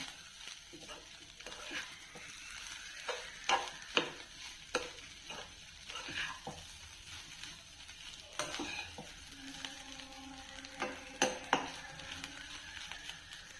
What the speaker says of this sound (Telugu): కొద్దిగా గరం మసాలా దాన్ని కూడా వేసి బాగా కలుపుకుంటున్నాను